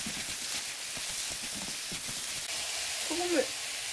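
Onion fries in garlic-infused oil in a pan, a continuous hissing sizzle with light crackles throughout, and a brief voice sounds near the end.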